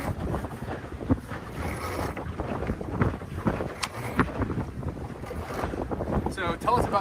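A gaff-rigged sailboat moves through wind on open water, with gusty wind buffeting the microphone, water sloshing along the hull and bursts of people talking over the noise.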